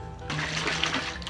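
Water briefly splashing and sloshing during a mukbang session, a short bright burst of liquid noise close by.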